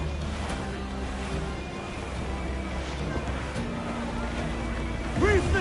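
A sailing ship at sea in Assassin's Creed Black Flag, with a steady roar of wind and waves against the hull, continuous and fairly loud throughout.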